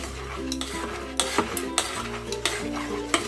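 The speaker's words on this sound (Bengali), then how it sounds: "গুড়টা দিয়ে ভালো করে আমি মিশিয়ে নিলাম ব্যাটারের সাথে" A spoon stirs jaggery into patisapta batter in a bowl, with a steady wet swishing and regular light clicks against the bowl side, close and continuous.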